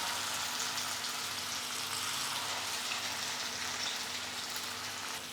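Marinated chicken pieces frying in ghee over high flame, a steady dense sizzle that stays loud and even throughout with no pauses and no voices.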